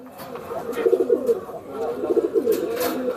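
Two bursts of low, throbbing coos from a male pigeon close by, each a quick rolling phrase, with a murmur of voices behind, at a pigeon market in Khulna.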